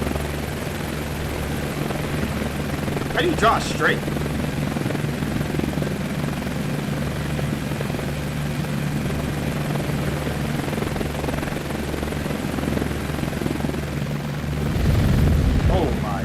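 A steady video game helicopter engine drone with low rotor thumping continues throughout, while someone talks over it.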